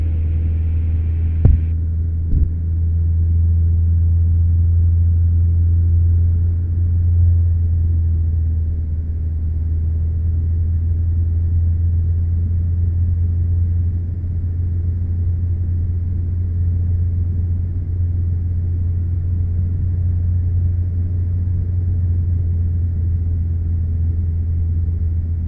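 Steady loud drone of a Robin DR400 light aircraft engine heard from inside the cockpit during descent, a constant low hum and rumble throughout after a brief click at the start, no talking over it.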